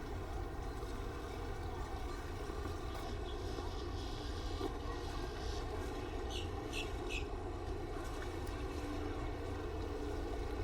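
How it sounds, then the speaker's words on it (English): A steady low engine drone of a boat approaching the dock at Disney's Wilderness Lodge, moderately distant and continuous, with faint background chatter and a few brief higher clicks. "And here comes a boat in."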